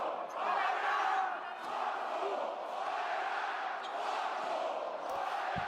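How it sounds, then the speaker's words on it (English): A basketball arena crowd at a Falco Szombathely versus JDA Dijon Champions League game, on their feet and roaring continuously, with swelling waves of cheering and shouting that stay loud from start to finish. "the crowd is on their feet, willing Szombathely to win this game, to get a score"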